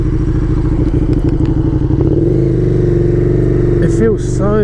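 A KTM Superduke 1290R motorcycle engine roars loudly under a rider on the road, a throbbing mechanical drone that shifts pitch as it accelerates and settles into a steady cruise, with wind rush close by.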